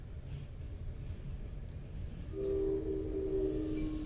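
Train horn sounding at a distance beneath steady low background rumble, a sustained tonal blast entering partway through and holding to the end.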